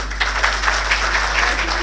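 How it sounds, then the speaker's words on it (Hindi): Children clap at an Urdu fiction award ceremony as shawls are presented to guests, a steady patter of applause alone with a low steady hum underneath. "बच्चों तालियां"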